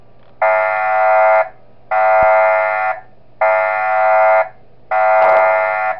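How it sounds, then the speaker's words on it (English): Fire alarm in the video game Five Nights at Wario's, four loud electronic buzzing blasts about a second long each, evenly spaced with short gaps, alone. "For Peach, same as Wario, use the fire alarm to scare both of them off."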